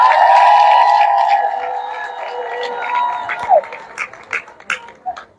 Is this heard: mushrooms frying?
no